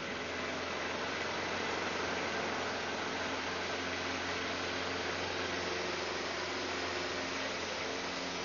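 A Thorp T-18 experimental light aircraft engine runs at full power during a takeoff roll, a steady, loud, broadband roar with a constant drone that holds unchanged throughout, with no voices.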